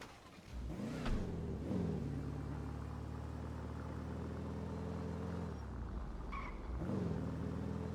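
A car driving on the road hums with a low, steady engine rumble and tire drone from inside the cabin, with a few gentle rises in engine pitch and no speech.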